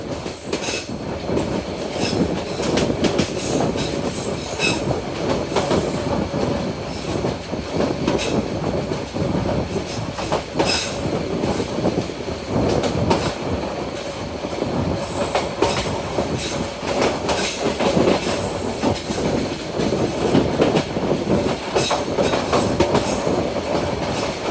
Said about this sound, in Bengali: আমাদের ট্রেনটি এখন দুরন্ত গতিতে Brahmanbaria railway station through pass করে যাচ্ছে।